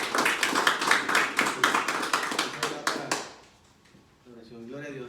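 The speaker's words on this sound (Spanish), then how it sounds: "le damos un fuerte aplauso al Señor" A church congregation claps in strong, fairly regular beats for about three seconds, then stops as a voice begins speaking.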